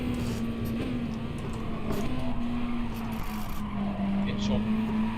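A Ferrari 458 Gr.3 race car drones through a racing video game at Willow Springs, its steady engine tone wavering slightly with throttle under a continuous bed of in-game noise, with a person talking over it.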